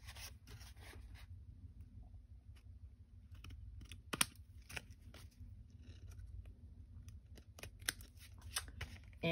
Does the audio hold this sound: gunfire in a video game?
no